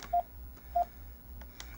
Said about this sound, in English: let's call him from a cell phone